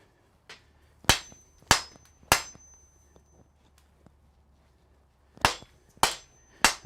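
Hot rebar hammered on an anvil in a smithy: sharp, ringing metallic strikes, three in a quick run, then a pause with faint tapping, then three more, loud and close with no talk.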